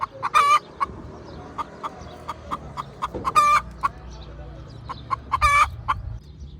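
A hen clucks in short, sharp bursts, a few louder squawking calls standing out among softer scattered clucks, close by with faint low background noise.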